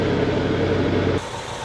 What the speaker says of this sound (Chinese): 发动机瞬间迸发出如同捷克式轻机枪一般的，种种迹象都在表明车辆的正式系统疑似出现问题。